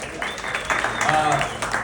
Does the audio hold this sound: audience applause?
yes